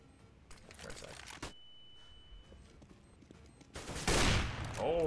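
Gunfire in the video game CS:GO, a headshot: sharp close shots scattered through the first seconds, then a loud, dense burst of fire near the end.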